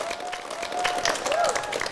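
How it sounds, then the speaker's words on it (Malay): A classroom of children claps briefly for a group, a short burst of quick overlapping claps with a faint whistle-like tone riding underneath. "Tepuk tangan kumpulan orang."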